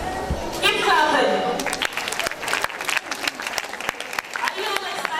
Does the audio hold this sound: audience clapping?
yes